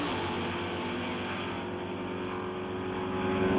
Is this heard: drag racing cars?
yes